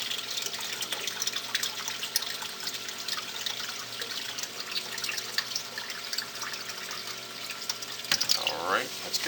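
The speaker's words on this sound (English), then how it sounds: "I'm just going to pour this water back into the sump here." Aquarium water is poured back into a sump during reef-tank equipment work, a steady splashing trickle of water throughout, with a brief squeak near the end.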